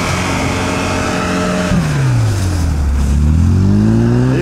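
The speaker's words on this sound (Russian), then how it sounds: "Так, тоже, смотрите, потихонечку здесь обороты пошли" UAZ Patriot engine revving hard while driving off-road, a loud steady drone that dips then climbs again in pitch as the revs rise, close and continuous with no talk.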